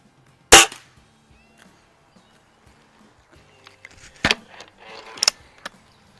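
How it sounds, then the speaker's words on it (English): A vintage Diana model 45 spring-piston air rifle fires with one sharp, loud crack up close, followed by quieter clicks, rattles and mechanical handling noises, then another louder snap and rattle near the end. "This is a quiet gun for a Springer, but it's got a lot more noise going on than that Benjamin does for sure."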